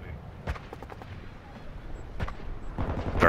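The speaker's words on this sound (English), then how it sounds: "It's shooting by me." Bursts of gunfire in a multiplayer shooter video game, sharp cracks landing close by in quick irregular succession and building louder toward the end, with voices of players talking over the shots.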